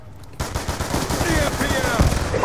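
Rapid four-round burst rifle fire from Black Ops 2 multiplayer on Xbox 360, loud clipped shots repeating in quick clusters over game ambience, with a voice talking.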